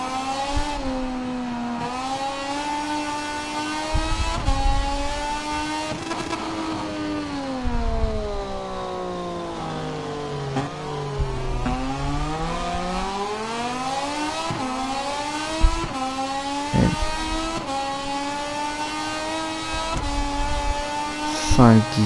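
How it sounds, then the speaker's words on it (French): A motorcycle engine in a racing video game revs and shifts, its whining pitch climbing and dropping through gear changes and corners, steady and moderately loud, with a voice talking over it. "je lance la moto trop tôt dans le virage"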